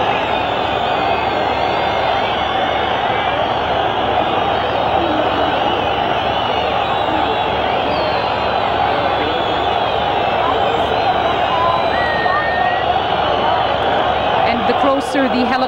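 Dense, loud crowd roar from mourners gathered in a compound for Yasser Arafat's funeral in Ramallah, a sustained wash of shouting and cheering with occasional whoops and no gaps.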